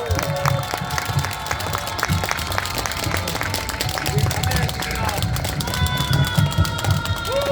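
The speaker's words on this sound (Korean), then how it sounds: "큰 박수로 한번 환영해 주시기 바랍니다" Crowd applause welcoming the head of an emergency medicine physicians' association at a doctors' rally, steady clapping with some crowd noise throughout, under a general hubbub.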